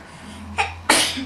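A single sharp sneeze bursts out near the microphone, preceded by a brief breathy intake, over a low steady hum in a quiet room.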